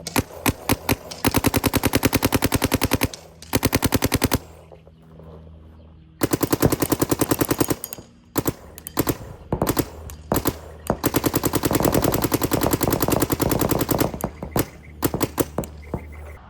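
Poppy shots from a Planet Eclipse CS3 paintball marker ring out in long rapid-fire strings and scattered single pops, loud and close, with brief quiet breaks between volleys.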